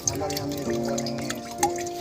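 Fresh water trickles and drips out of a natural filter, soft and close, with voices murmuring faintly in the background.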